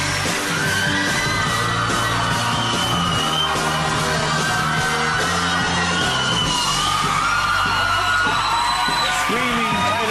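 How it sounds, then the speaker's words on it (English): Taylor Swift fans in the studio audience of a 2012 talk show scream and whoop loudly and continuously, a dense wall of shrieking crowd noise for the whole stretch. "Screaming Taylor Swift fans there."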